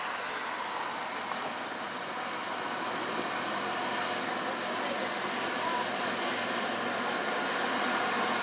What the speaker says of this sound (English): I can hear a westbound train coming.